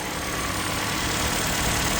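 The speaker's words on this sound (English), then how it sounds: "Engine bay, as you can see, all running nice and smoothly there." A 2020 Toyota RAV4 GXL with about 96,000 km on it idles steadily and smoothly in the engine bay, a close, continuous low engine hum with no breaks and no talking over it.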